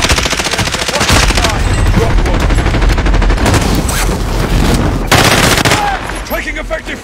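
Sustained automatic gunfire and bursts in Call of Duty Warzone, dense and loud throughout with heavy overlapping shots and a couple of sharper peaks, game voice callouts faintly mixed in.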